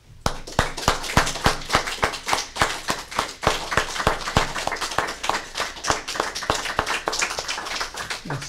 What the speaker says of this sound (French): je pense qu'on peut la remercier en lui rendant hommage et l'applaudir chaudement